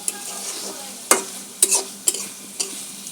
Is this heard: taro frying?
yes